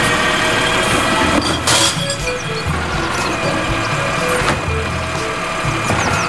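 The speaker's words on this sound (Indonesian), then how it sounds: "Wah, ini truk sampah." A toy garbage truck's motor whirs and rattles steadily and loud close by, with some clattering knocks over it.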